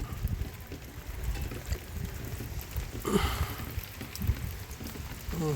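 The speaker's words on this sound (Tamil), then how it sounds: "விட மாட்டேங்குது மழை விடாத கருப்பு மாதிரி விடாத மழை" Steady heavy rain falling through the night in Kezhuvathur, a dense continuous wash of patter with scattered louder drops, fairly quiet and unbroken, no voices.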